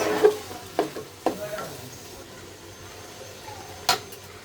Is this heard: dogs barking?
no